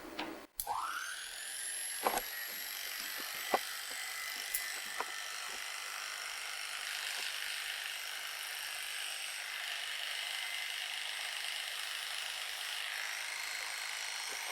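Electric clippers trimming the bridle path behind the ears of a Norwegian Fjord horse, a steady high-pitched motor whine running throughout after a sharp start, with a few faint ticks and knocks, no talking.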